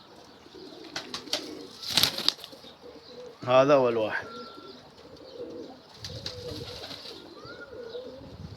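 Pet pigeon, a white-tailed Iranian bird, gives a brief cooing call with some wing flapping nearby, while someone speaks over and around it.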